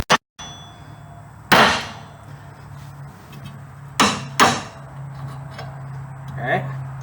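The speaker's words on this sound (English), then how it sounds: "you just want to strike the knuckle right here with a hammer" A hammer strikes a vehicle's steering knuckle to free the tie rod, giving three loud metallic clangs, one alone and then two in quick succession, in a quiet garage with a faint hum.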